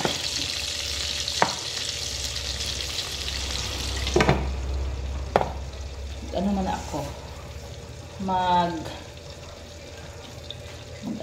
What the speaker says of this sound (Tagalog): Yan, mag-prito na tayo.